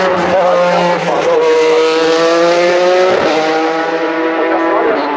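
A Dallara GP2 race car pulls out of the pit lane during BOSS GP qualifying at Hockenheim, its loud, high-revving engine whining steadily and shifting pitch throughout, with a commentator talking over it.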